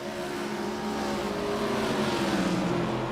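ARCA Series stock cars run in iRacing at New Hampshire, and their engines make a continuous, even drone with a steady pitch and no voices over it.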